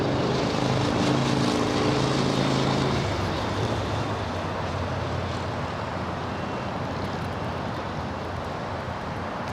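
A United airliner taking off from runway 25 right at LAX, a loud broad jet roar with a low rumble that eases slightly after a few seconds and then holds steady for the rest of the stretch.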